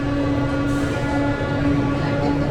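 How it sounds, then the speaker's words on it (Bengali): The Maa Tara Express passenger train running out of Sealdah in Kolkata, with a loud, steady, close rumble of rail travel and a constant tonal hum, with no breaks and no talk. "এই হচ্ছে মা তারা এক্সপ্রেস।"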